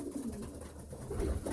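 Racing pigeons coo low and soft in a loft, in a steady murmur of several birds with a slightly stronger burst near the end, fairly close and with no talking.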